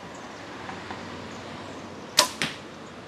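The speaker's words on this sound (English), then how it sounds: "this Invasion is a pretty quiet bow" A quiet Invasion compound bow looses an arrow: two sharp, brief snaps close together near the end, the release followed by a quick thwack, after a stretch of soft outdoor background.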